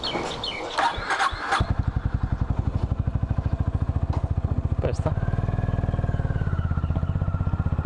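A Honda Highness CB 350 motorcycle engine starts after a few brief voices and settles into a loud, close, rhythmic thumping idle that holds steady.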